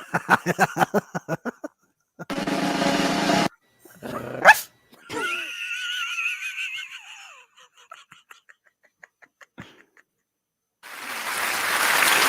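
A dog barks in a quick rhythmic run, then growls and yips in louder bursts separated by short silences, followed by a wheezy whine and a final stretch of noisy rumble.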